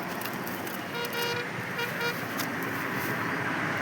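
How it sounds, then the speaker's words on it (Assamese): Buses and cars pass along a road on the way out of Itanagar, a steady wash of traffic noise with a few short horn toots near the start and around the two-second mark. "এয়া বাছ গাড়ী অহা যোৱা কৰি আছে"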